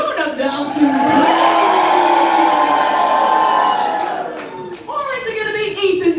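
Crowd at a lumberjack show in Alaska whooping and cheering loudly in a long sustained roar, fading out and then rising again with fresh shouts.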